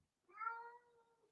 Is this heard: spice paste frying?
no